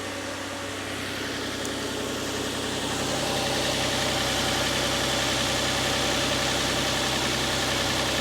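Car engine with bad coils idling steadily and close by, a smooth, continuous low hum that holds level throughout, with no talk.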